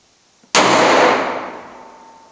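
A single loud gunshot at shooting practice cracks sharply close by, then its echo decays slowly over about two seconds in an otherwise quiet setting.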